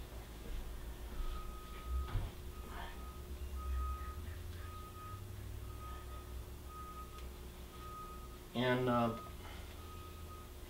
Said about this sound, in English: some big old trucks backing up in front